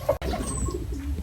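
A pigeon near racing-pigeon training grounds gives a soft, low coo at close range over a faint outdoor background, with a brief click near the start.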